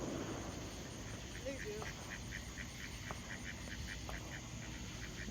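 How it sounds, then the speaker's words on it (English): A duck quacks near a pond at night, faint repeated calls in a fairly even rhythm over a constant hiss of background night noise. "Y'all see that duck right there?"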